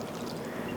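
Apple cider vinegar pouring from a bottle into a bowl, a short, steady liquid splash heard close up with no talking.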